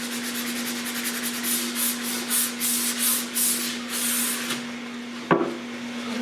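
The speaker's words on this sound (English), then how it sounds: "we're going to finish sanding this" Bondo filler on a 3D-printed Mandalorian jetpack is sanded by hand in quick repeated rasping strokes over a steady low hum, ending with a single sharp knock.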